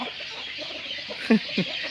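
A Thai Koi Choeng chicken gives two short, close clucks about a third of a second apart, over a quiet, steady background hiss.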